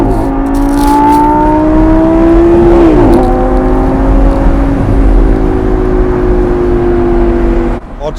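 Lamborghini Gallardo V10 Performante engine in sport mode, a loud, steady close-up drone from inside the car that rises in pitch, dips briefly around a gear change, then holds and climbs again before cutting off at the end.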